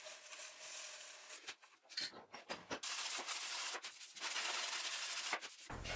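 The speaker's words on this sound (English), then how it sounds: "A small square of 150 grit sandpaper and finger pressure cleans up the coved corner profile" Small square of 150 grit sandpaper rubbed by hand over a coved wooden corner profile, close, soft scratchy strokes in an irregular back-and-forth rhythm.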